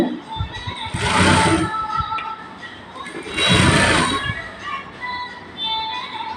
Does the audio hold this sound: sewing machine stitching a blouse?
yes